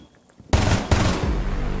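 A loud, close burst of rapid automatic gunfire in the video game Rainbow Six Siege, starting abruptly, with a second burst following right after that rattles on to the end.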